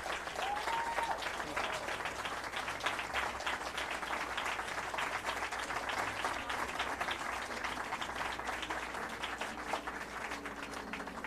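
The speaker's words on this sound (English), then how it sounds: "How about a big round of applause for Mandy Patinkin" Outdoor crowd applause at a Hollywood Walk of Fame star ceremony for Mandy Patinkin, steady sustained clapping from a gathered audience, fairly distant and even.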